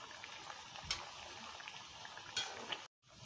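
Misro, cassava fritters, fry in oil over a low flame, giving a soft, steady sizzle with occasional clinks of a utensil before the sound cuts out briefly.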